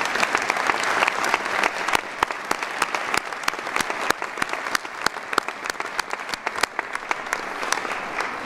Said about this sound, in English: let's give Barb a round of applause as well